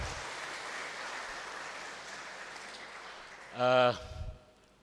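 A church congregation at a Sunday service applauds the choir from Jati Asih, a steady wash of hand claps heard from a distance, fading out near the end under a brief tonal chime.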